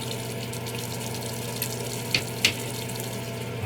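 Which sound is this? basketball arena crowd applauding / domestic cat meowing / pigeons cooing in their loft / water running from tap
water running from tap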